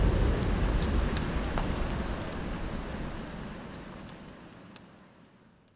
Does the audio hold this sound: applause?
no